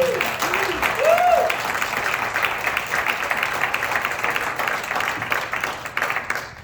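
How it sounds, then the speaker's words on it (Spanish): An audience at a book presentation in a museum applauds steadily, the clapping tapering slightly toward the end, with a voice speaking briefly over it near the start. "Un fuerte aplauso, por favor."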